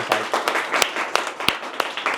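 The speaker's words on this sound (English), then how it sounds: "I would like to invite you to give round of applause to Mas Gatra for giving us a lot of insight." Audience applauding to close a talk at an expert series event on think tank research careers, steady mid-distance clapping with a few sharper claps standing out, continuous throughout.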